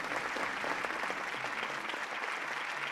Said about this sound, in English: The crowd applauds the president.